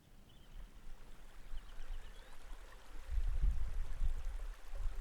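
The River Greta flows at Crow Park in Keswick, a steady broadband rush of running water with low rumbling swells that grow louder in the second half.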